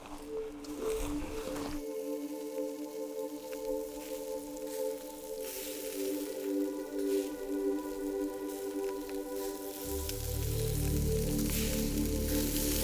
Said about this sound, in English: meat sizzling over the fire